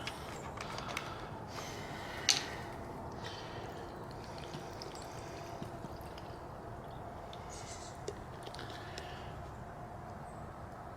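Water streams into a GSI camping cup up to its fill line for a cheesy jalapeño Cheetos mac and cheese, a steady low pour with light trickling and one brief louder splash.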